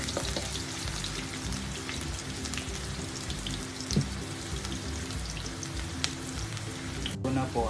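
Onions being sautéed in a pan, an even close sizzle like light rain, with a few soft clacks of a utensil stirring and a brief knock near the end.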